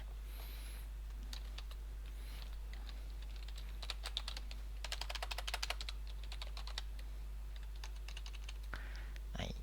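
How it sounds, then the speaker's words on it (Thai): Fingers typing on a computer keyboard to press Ctrl V, a quiet run of clicks that thickens into a dense burst of keystrokes midway, then taps off over a low steady hum. "ให้เรากด Ctrl V ที่คีย์บอร์ดนะครับ"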